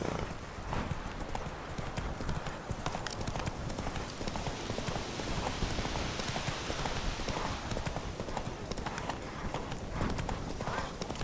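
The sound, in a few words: horse Roach galloping in video game The Witcher 3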